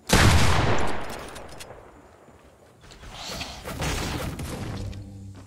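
Bursts of video game gunfire in Fortnite, a loud burst of shots at the start that fades, then a second stretch of rattling fire, with no talk over it.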